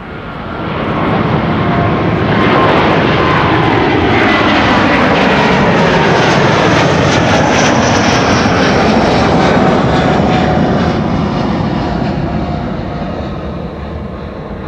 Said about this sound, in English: That's an A330neo.